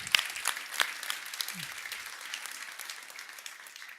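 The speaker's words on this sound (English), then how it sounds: "big applause." Scattered applause from a crowd at a GT4 Nordic European Cup motorsport event, fairly faint and distant, with a few sharper individual claps standing out near the start before the clapping thins out.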